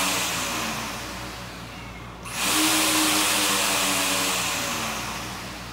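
A brushless DC motor drives a robotic trimmer arm, a steady high whine that surges louder partway through and then holds a strong, even drone with a faint droop near the end.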